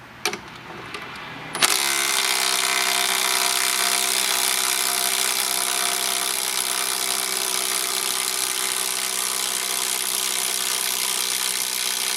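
A Makita 40-volt cordless impact wrench whirs into a sustained high-pitched whine after a brief click, running steadily at constant speed for several seconds while removing screws.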